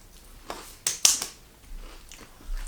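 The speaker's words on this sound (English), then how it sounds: "It's like all the crunch that you really like from an onion ring, but it's not greasy." Air-fried onion rings give a few sharp, close crunches as they are bitten, clustered around the middle of the moment, then quieter chewing follows.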